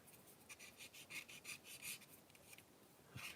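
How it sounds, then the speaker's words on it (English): Fine 400 grit sandpaper rubbing over a hollow plastic panel of a 1/48 scale Bf 109E-3 model aircraft, giving soft, rhythmic scratchy strokes that are quiet and close, with no voices. "You can hear that sandpaper."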